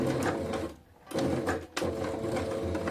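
A domestic sewing machine stitching a zigzag stitch on fabric, running in fast mechanical whirring bursts with a brief near-silent pause in the middle and a short stop before it starts again, close to the microphone.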